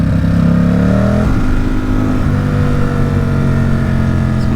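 A Ducati SuperSport 950 S motorcycle engine revs loudly and close while riding for wheelie practice, rising in pitch then dropping into a steady hard-pulling drone with continuous throaty exhaust, no voices.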